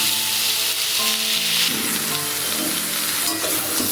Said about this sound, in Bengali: হলুদ দিয়ে সবজিগুলোকে আরেকটু ভেজে নেব